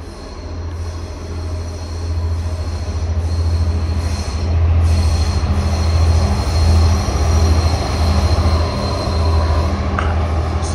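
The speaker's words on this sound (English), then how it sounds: "Oh, I think we've got a train about to come past." A log-carrying freight train in Lapland rumbles past at close range, a continuous low roll of wheels on track with occasional high squeals, steady and loud.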